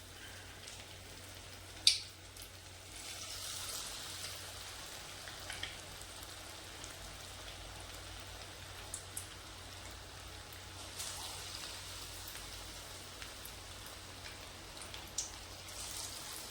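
Chicken 65 pieces frying in hot oil over a high flame, giving a soft, steady sizzle and crackle with a few sharper pops, fairly quiet and close.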